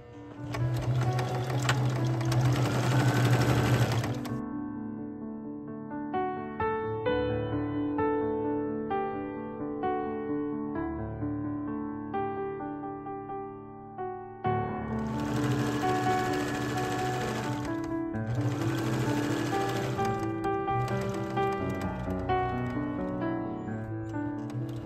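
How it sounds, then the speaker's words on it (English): A sewing machine stitching fabric, its motor whirring in two loud runs with a quieter stretch between them, heard close and alone without talk. "So now we are going to sew."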